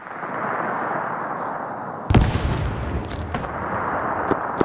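Frag grenade blast and rifle fire in the military shooter ArmA III during a Vietnam War campaign mission: steady battlefield rumble, then a sudden loud explosion followed by scattered gunshots, with a final sharp crack at the end.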